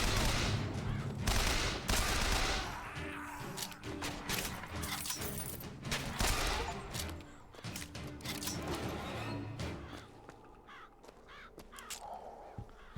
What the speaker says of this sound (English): we are allowed to shoot everyone